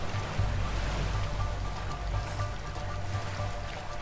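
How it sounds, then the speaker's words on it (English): Rushing whitewater rapids near a waterfall in the video game A Way Out, a steady broadband roar of churning water with low rumble, continuous and fairly loud throughout. "Waterfall!"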